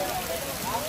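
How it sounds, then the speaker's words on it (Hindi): Heavy monsoon rain pours steadily over an open kite-fighting ground. The hiss is dense and constant, and no single drops stand out. "बारिश तेज हो रही है"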